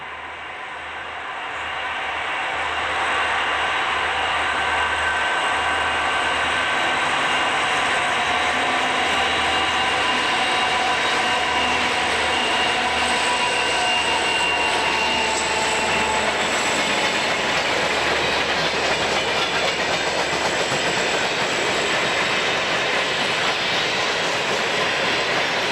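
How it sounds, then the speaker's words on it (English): Westbound B&O freight train of empty cars running through Piedmont, Maryland in falling snow: the train builds from quiet to a loud, steady rumble of rolling wagons with ratcheting clanks, squeals and clickety-clack passing close by. "a westbound with empties runs through the town of Piedmont"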